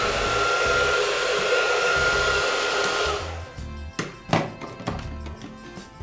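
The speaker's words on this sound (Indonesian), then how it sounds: "So first I need to dry my hair with hair dryer because it's a bit wet" A hair dryer blows hair dry with a loud, steady, close whoosh for about three seconds, then switches off, followed by a few scattered knocks and taps.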